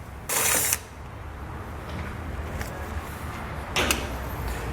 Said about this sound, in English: we'll grab a 13mm socket and pull that out